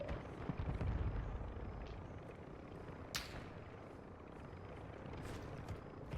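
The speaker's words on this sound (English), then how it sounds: "A cargo helo has entered the airspace." Cargo helicopter passing overhead in Call of Duty Warzone 2, a steady low rotor rumble that swells near the start and then holds as a continuous drone, with brief game effects over it.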